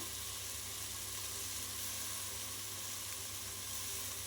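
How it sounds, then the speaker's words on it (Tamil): Constant soft sizzle of tomatoes and banana flower frying in oil in a pan, a quiet, even hiss with no talking. "இந்த தக்காளியும் போட்டு நல்லா வந்து எண்ணெயிலேயே வணக்கி விடணும்"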